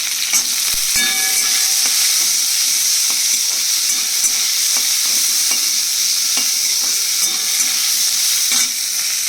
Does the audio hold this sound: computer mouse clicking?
no